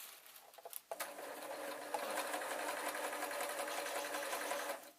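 A sewing machine runs in a steady, fast stitching patter along the back heel seam of a leatherette boot cover, after a few short starts, close and fairly quiet.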